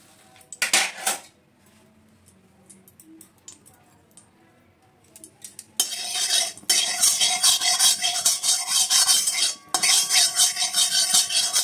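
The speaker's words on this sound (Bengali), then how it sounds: "একটু ঘি দিয়ে লাউটা ভেজে নেব।" Boiled bottle gourd fried in ghee in a kadai for a jaggery bottle gourd payesh, heard as loud, close metal spatula scraping and clanking against the pan in sustained bursts over a faint sizzle, after a quieter opening.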